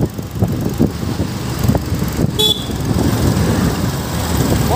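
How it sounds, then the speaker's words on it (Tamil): Busy Sunday road traffic near Ukkadam bridge rumbles continuously from a passing bike, with vehicles rolling by and one short horn toot cutting through midway. "ஒரே டிராஃபிக்காக இருக்குங்க."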